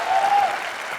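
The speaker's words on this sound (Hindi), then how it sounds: "इन चारों के लिए जोरदार तालियां" Steady, dense applause from a studio audience at a comedy talk show, loud and close, filling the whole moment without any clear break.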